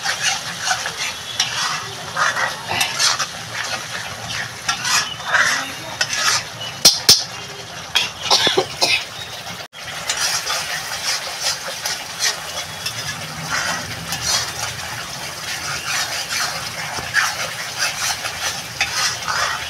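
Yogurt spice paste for Bengali doi katla being stir-fried in a pan, a steady close sizzle with continual scraping and stirring strokes and a few sharper clinks of the spatula against metal, no voices.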